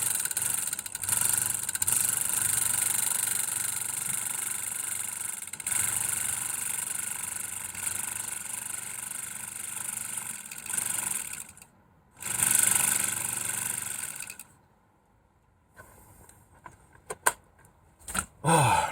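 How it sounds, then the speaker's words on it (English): A hot tub pump runs with a steady mechanical hum and whine for about twelve seconds, cuts out briefly, restarts, then stops, followed by a few scattered clicks and knocks. "we know the pump's working"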